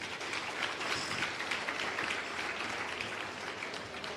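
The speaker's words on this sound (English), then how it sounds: "can all my learners just give yourself a round of applause" A crowd of learners at the launch of a skills development centre applauding, steady dense clapping heard from across a room, continuous and fairly faint.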